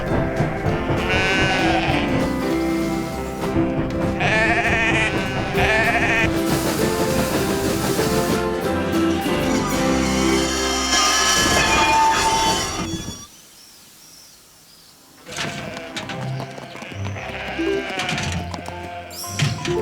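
A flock of sheep bleats in a Postman Pat cartoon, the cries layered over busy music, with a brief near-silent gap before the bleating and music return.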